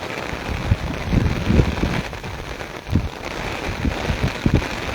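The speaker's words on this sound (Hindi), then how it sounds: "तेज़ बारिश तेज़ हवा" Heavy rain with strong wind pours down in Taunsa Sharif, a steady broadband hiss with irregular low gusts and thumps throughout.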